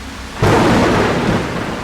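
Loud thunderstorm in the horror video game Darkwood: a sudden thunder crack breaks in and rolls on as a dense, sustained rumble over steady rain, with no talking.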